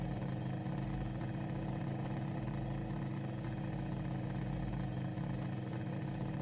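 Struggling aircraft engine from a cursed freeware BYOB 2000 plane in Microsoft Flight Simulator, a steady, rough low drone that runs unbroken and loud throughout with no talk over it.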